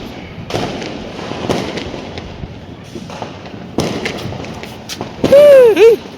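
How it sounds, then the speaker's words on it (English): A Diwali rocket firework is set off at a street celebration in Bangalore: scattered pops and thuds, then a loud, close rising-and-falling whistle as the rocket flies, with people talking in the background. "लगाओ rocket bomb"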